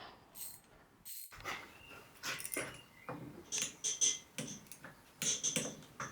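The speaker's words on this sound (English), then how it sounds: "Let's get these retaining pins in and then tightened up to manufacturer's spec" Motorcycle brake caliper retaining pins being fitted and tightened to spec: quiet metallic clicks, taps and ratcheting in short, separate bursts, close by, with no talk.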